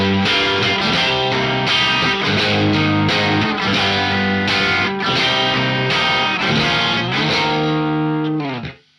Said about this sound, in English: I like the clarity that you get from single coils for these kind of chords under distortion.